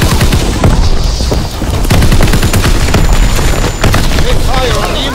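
Dense wartime gunfire from a Call of Duty: WW2 multiplayer match, with rapid machine-gun bursts and booming blasts rolling continuously at close range while a voice shouts over the battle.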